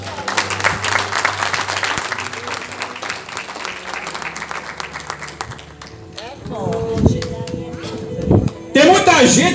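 A church congregation applauds, many hands clapping together at a steady rhythm for several seconds before fading, after which a voice speaks loudly over scattered remaining claps and sounds.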